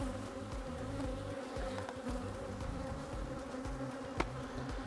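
Angry honey bees swarm around beekeepers at an open hive, a dense, steady buzzing that fills the air close by, with one brief sharp knock near the end.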